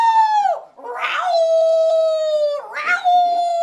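A human voice imitates cats yowling on a summer night, delivering two long, drawn-out wailing howls that sweep down and hold a pitch, loud and close with a brief gap between them.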